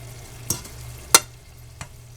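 Pasta with Mexican squash is stirred in a pan over a low sizzle, with three sharp utensil scrapes and clacks spaced out across the stir.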